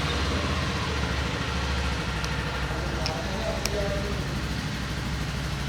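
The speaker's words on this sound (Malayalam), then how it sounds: "നമുക്കപ്പോൾ എക്സോസ്റ്റ് നോട്ടൊന്ന് കേട്ട് നോക്കാൻ വേണ്ടിയിട്ട് let's here the twin cylinder." A Kawasaki Eliminator 500 twin-cylinder motorcycle idling: a steady, close, low throbbing exhaust rumble that holds even throughout with no revving.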